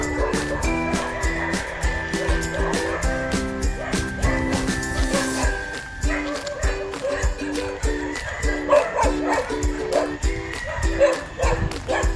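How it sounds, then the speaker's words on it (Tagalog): Dogs barking repeatedly in bursts, fairly close, on a coconut farm, over a steady music-like background with occasional voices mixed in. "Ang ingay naman ng mga aso."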